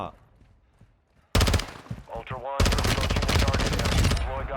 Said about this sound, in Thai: ทิ้ง M4 แล้วหยิบปืนนี้มายิงปั๊บ